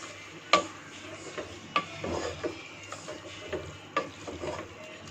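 Spinach stirred and fried in ghee in a pot: steady low sizzling under repeated scraping strokes of a spoon, with a few sharp clacks against the pan, close and fairly quiet.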